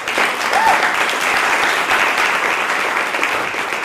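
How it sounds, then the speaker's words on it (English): An audience at a cannabis-themed community event applauds steadily and loudly, a dense, even round of clapping with no speech over it. "Let's give him another round of applause."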